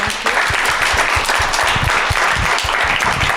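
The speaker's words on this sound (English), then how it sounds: "if we could just give Arjun a big round of applause" An audience gives Arjun a warm round of applause at a property industry masterclass, dense continuous clapping that stays full and steady throughout.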